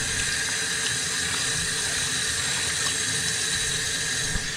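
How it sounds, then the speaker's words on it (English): A steady stream of water rinses a motorcycle air filter from a 2024 Street Glide, a constant close hiss and splash with no breaks and no voices. "We'll give this a good rinse."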